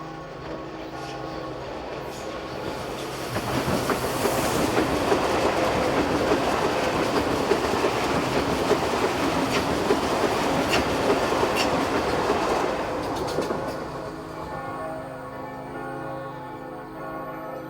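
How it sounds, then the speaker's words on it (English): A Swiss Class 500 intercity train passing on the Gotthard North Ramp, rising to a loud sustained rumble with clattering wheels near the middle, then fading away, heard without speech. "intercity trains such as this will no longer use this route"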